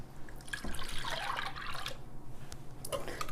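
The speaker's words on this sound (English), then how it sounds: "Now we add our 2 cups of milk." Two cups of milk poured into cracked, whisked eggs in a bowl for a cowboy breakfast casserole, a soft continuous liquid splash and trickle lasting a few seconds, close and fairly quiet.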